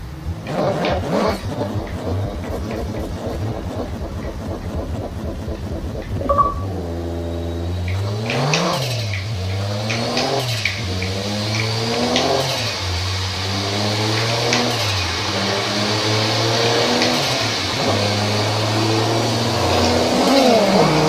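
Car engine in Forza Horizon 3 revving against a held brake and handbrake: a steady idle gives way to repeated rising and falling revs that pulse in a regular wavering pattern, loud and close with no talk.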